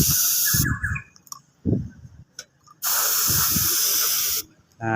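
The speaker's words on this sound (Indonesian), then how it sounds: "Jika sudah kering kita langsung semprot saja seperti ini" Paint spray gun spraying an even coat onto a car part being repainted, two long loud steady hissing bursts of several seconds each, with someone talking in the gaps between them.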